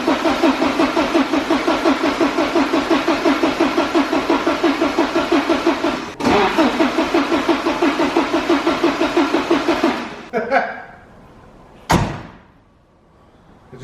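A Porsche 944's starter cranks the engine in a fast, rhythmic churn that never catches, breaking briefly once. After about ten seconds the cranking stops, followed by a sharp clunk and quiet.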